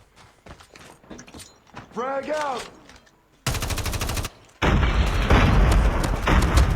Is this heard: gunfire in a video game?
yes